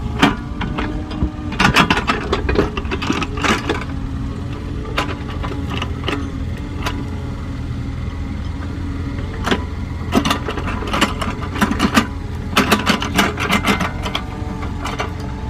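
An excavator's engine rumbles steadily at a digging site, with repeated clanks and knocks of the machine working over the low drone, fairly close.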